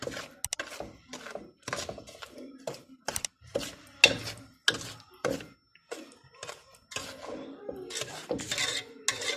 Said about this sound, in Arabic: منضل عم نحرك لبين ما يدوب السكر